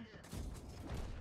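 Repeated tank cannon shots in a combat video game, a run of booming low impacts packed closely together, fairly loud, with some game noise and possible voice underneath.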